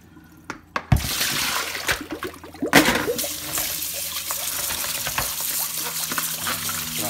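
Tripe for menudo blanco being rinsed under a running tap, with a steady stream of water splashing and trickling for several seconds, punctuated by louder sloshes and handling thumps near the start.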